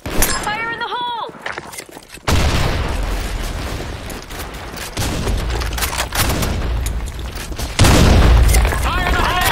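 Grenade blast in the Counter-Strike office map, a heavy booming burst that hits hard near 2 seconds and again near 8 seconds, thick with gunfire and crackle between the two.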